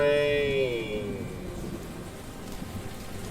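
Steady rain falling in the video game Pokemon Scarlet, a soft continuous hiss of rain, briefly overlapped at the start by a fading tonal game sound.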